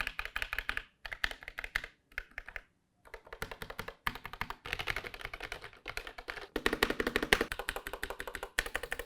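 Rapid clicky typing on an ASUS ROG Claymore II mechanical keyboard with ROG RX Red optical switches, bursts of keystrokes separated by short pauses, close and crisp with no talking.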